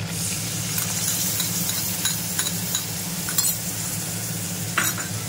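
Soaked spice paste of ground coriander, cumin, chili and turmeric hits hot oil in a pan for a light fish curry, giving a steady close sizzle with a few sharp spoon clinks and no talk.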